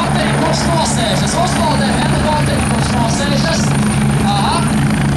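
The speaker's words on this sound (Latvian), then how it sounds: "Un uzpaldē helikopteri, kurš nosēžas." Helicopter landing at an airshow, a loud continuous rotor and engine roar with steady throbbing blade chop, filling the scene while an announcer speaks over it.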